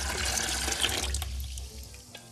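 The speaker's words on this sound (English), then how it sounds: "what I have here is a stock bucket that I pour all my waste into" Liquid waste from gold recovery and refining is poured into a stock bucket, a short gurgling, splashing pour that trails off into quiet drips.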